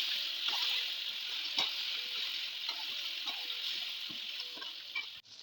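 Peeled tamarind frying in hot oil with panch phoron and two dry red chillies gives a steady close sizzle, with soft stirring clinks and scrapes scattered throughout.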